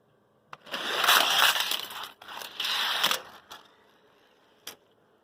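A Hot Wheels toy car crashes down its track in a short clattering rush, two bursts of rattling plastic and metal separated by a brief pause, followed by a couple of sharp clicks and a final tap.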